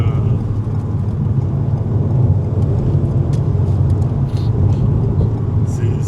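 Alpine A110 sports car of about 250 horsepower accelerating hard, a loud, steady low engine rumble with road noise running throughout, with speech faintly present.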